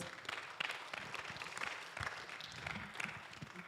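Congregation applause at a Spanish-language church service, a dense, steady wash of many hands clapping throughout, moderately distant with a few louder bursts.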